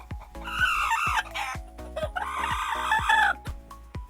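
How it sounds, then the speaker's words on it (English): Pet chickens kept in a garage clucking in agitated, uneven bursts, loud and close, with a repeating percussive beat running underneath. "This here chicken is my favorite."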